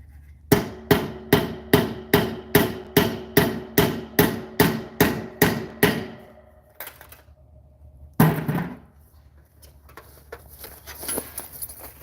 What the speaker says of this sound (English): We're just setting the rivet because there's a washer that goes over it.